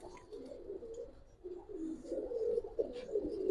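Army pigeons coo close by in soft, repeated low warbling calls, one coo rolling into the next, with no talk over them.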